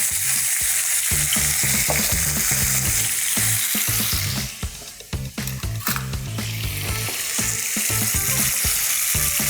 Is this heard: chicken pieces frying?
yes